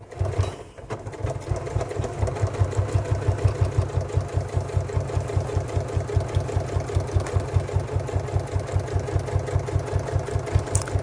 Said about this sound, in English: I'm just basically going to go and sew straight from where I left off